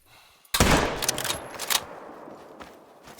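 A single loud rifle shot at a bear in the video game theHunter: Call of the Wild, set in Mississippi Acres. A sharp crack rolls into a long echoing tail, then faint rustling and a few soft thuds follow.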